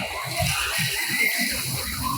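Water rushes down at a large water park in Malaysia, a steady broad wash of splashing and flowing water with voices talking in the background.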